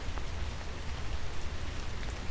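Rain falling in a garden on a cool July day, a steady, dense hiss of drops pattering evenly with no voices.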